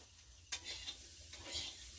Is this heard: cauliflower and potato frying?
yes